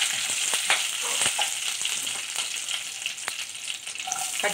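Dried chili and curry leaves fry in hot oil with a bright, steady sizzle, crackling pops scattered throughout, close and alone.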